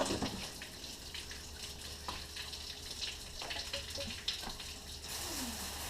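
Water streams steadily through a 2002 Dodge Dakota cooling system being back flushed in reverse, a continuous low hiss and splash of flow heard close and alone, with a few faint clinks.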